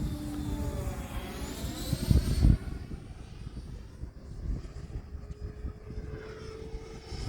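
E-flite 90mm Viper model jet flying a loop outdoors, its ducted-fan whine sweeping in pitch as it passes, loudest in a brief close rush then fading into distant wind noise.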